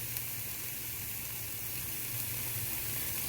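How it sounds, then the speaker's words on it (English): Hamburger patties fry in a pan with no added oil, giving a steady, continuous sizzle throughout with a low hum beneath, close and even. "Can you hear the sizzle of the burgers?"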